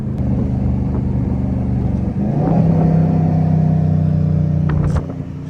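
A widebody Dodge Challenger Scat Pack drives along a mountain road, a steady loud engine drone and road rumble filling the cab, rising briefly as the throttle opens, then easing near the end.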